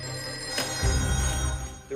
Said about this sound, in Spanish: El teléfono sonó y yo lo cogí.